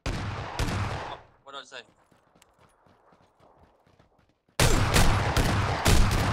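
Shotgun blasts in PUBG gameplay boom out loud and close in a dense cluster at the start and again near the end, separated by a quieter stretch of faint footsteps, with someone briefly talking.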